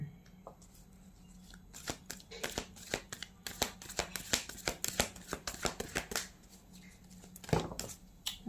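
Tarot cards being shuffled by hand in a fortune-telling reading, a rapid run of crisp riffling snaps and slaps with short pauses between bursts, close and fairly quiet against a low steady hum.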